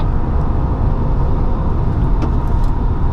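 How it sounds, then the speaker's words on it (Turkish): A 2018 BMW 520i hums steadily from inside the cabin while driving, giving a loud, even, low rumble with road noise and no talk. "Böyle bir uğultulu bir motor ama sessiz bir motor"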